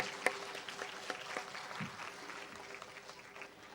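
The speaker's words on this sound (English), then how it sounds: "Please give a round of applause for the gamelan and ukulele ensemble." Audience applause for a combined gamelan and ukulele ensemble from the University of the Third Age Malaysia after a folk song, a faint, steady patter of clapping from a distant crowd, with no voices over it.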